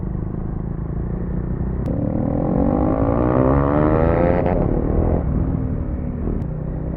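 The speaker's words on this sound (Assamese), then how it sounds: "এতিয়া মই লগৰজনৰ বাইকটো চলাই আছোঁ" A borrowed motorbike ridden on a hilly road near Haflong, a steady close engine drone with a gradual rise and fall in pitch, no talking.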